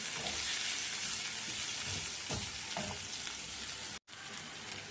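Ingredients for green gram paniyaram sauté in a pan with a continuous sizzle and a few stirring scrapes and knocks near the middle, cut off briefly by a short dropout before the hiss resumes.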